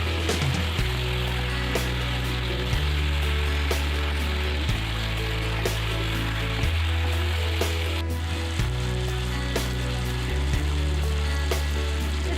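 Chicken pieces fry with spices in a pan for a village-style Bihari chicken curry, a soft steady sizzle with occasional clinks and scrapes of stirring, under a low hum that switches on and off.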